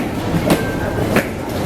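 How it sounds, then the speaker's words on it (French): Metro train ride toward the airport, a continuous low rumble of the carriage with a couple of clanks and a brief faint squeal, fairly loud and steady. "Je suis en train de prendre le métro pour me rendre à l'aéroport avec les 3 tonnes de bagages."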